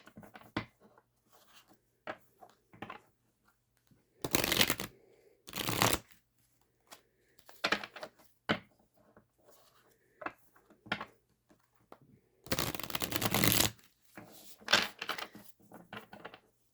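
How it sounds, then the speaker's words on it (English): Tarot cards being shuffled in bursts, with several loud riffling runs separated by quieter taps and handling of the deck, close and without speech. "So let's pull your tarot cards,"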